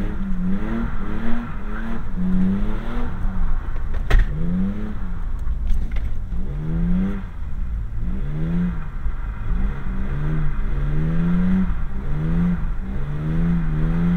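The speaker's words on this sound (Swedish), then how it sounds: "Nu ska du få se på en som kan varva." A BMW engine revs repeatedly up and down in quick rising and falling sweeps, loud and close, with a steady rhythm of throttle blips over a low rumble.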